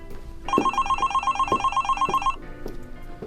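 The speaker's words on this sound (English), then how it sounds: "Tia, can you get the phone with a customer?" Telephone ringing in a tailor shop, a bright electronic trill pulsing in rapid regular bursts for about two seconds, loud and close, with thumping background sounds continuing after it stops.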